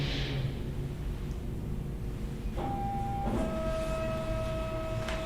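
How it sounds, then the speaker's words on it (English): A thermal printer in an election office prints a ballot, giving a low steady mechanical whir with faint electronic tones, heard alone and without talk. "It is a thermal printer, so we don't ever have to change them."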